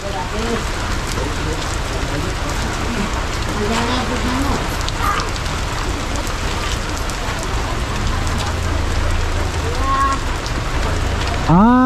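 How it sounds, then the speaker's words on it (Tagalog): Steady rain pours on Christmas in Tanawan, a dense close patter on surfaces that runs unbroken throughout, with people's voices talking beneath and through the downpour. "Maulan ang Pasko sa Tanawan."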